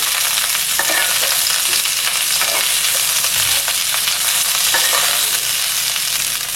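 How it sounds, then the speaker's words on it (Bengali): Cauliflower florets sizzle loudly in hot oil alongside bhetki fish in a pan, with soft scraping strokes as they are stirred over a continuous close frying hiss and no talking. "একটা পাশ ভাজা হোক, তারপরে আবার উল্টে দেবো। ফুলকপিগুলো একবার নেড়ে দিচ্ছি।"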